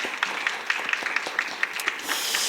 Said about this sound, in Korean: 우리 다 같이 수고했다고 박수 한번 좀 주시죠